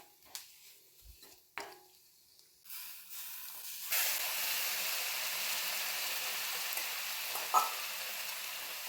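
A steady hiss of chili powder frying in a hot pan starts after a few quiet seconds with small clinks, then holds as a continuous sizzle.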